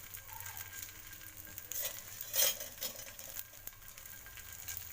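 Steamed idli pieces frying in oil in a pan, a soft steady sizzle with a brief louder crackle in the middle, heard close and without talk.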